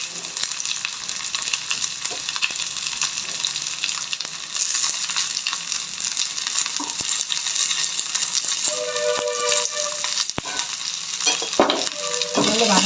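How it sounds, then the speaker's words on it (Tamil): Onion, garlic and spring onion sautéing in oil in a pan after mustard seeds have popped, a steady close sizzle and crackle with occasional stirring scrapes and clinks throughout. "நல்லா வதக்கிக்கலாம்"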